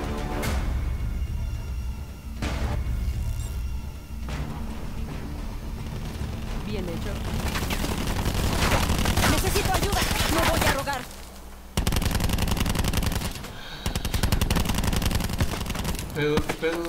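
Heavy gunfire in the video game Call of Duty Black Ops 4: fast automatic bursts and scattered shots rattle almost continuously, with short breaks, while someone talks over the action.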